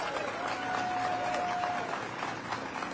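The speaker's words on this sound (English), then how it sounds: "let's give a great round of applause for Mrs. Robin" Audience at a live museum ribbon-cutting ceremony breaks into steady applause, a dense wash of clapping heard throughout with some voices mixed in.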